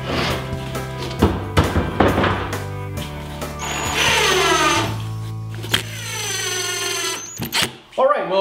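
A power drill drives screws through half-inch plywood pieces into the sides of a wooden top bar beehive, whirring in a few rising bursts with knocks and handling thuds while someone talks over it.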